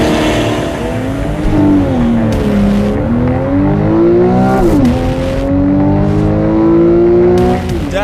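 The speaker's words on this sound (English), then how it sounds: "you've got to try out the launch control, which we're going to do" A 2012 Porsche 911 (991) with PDK gearbox launches hard under launch control, its engine note climbing loud and close through rising revs with quick gear changes punctuating the surge, no talking.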